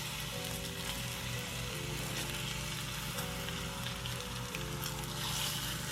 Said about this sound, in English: after about 5 minutes of them browning, we're going to go ahead and flip those